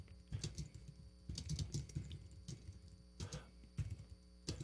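Someone types on a computer keyboard during a live technical stream, giving quiet, close clusters of irregular key clicks in bursts. Faint background hum runs underneath and no voice is heard.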